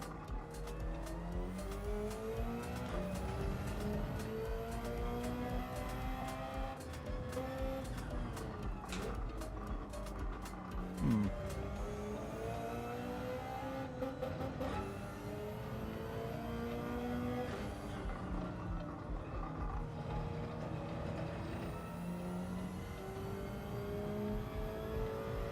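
Engine revving in Gran Turismo 7 during a relaxed cruise lap, with rising and falling revs through downshifts. It holds steady and loud across the whole stretch, accompanied by faint tire noise and no talking.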